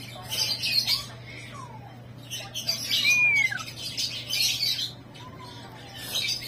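An African lovebird named Cremino gives sharp squawks and rising and falling chirps in short bursts, close by, over a low steady hum.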